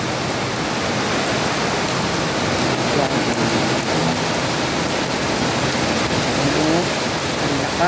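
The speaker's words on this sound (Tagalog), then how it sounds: "Ang lakas ng ulan." Heavy overnight rain in Olongapo pours steadily throughout, a dense, constant broadband hiss with no breaks, close and loud.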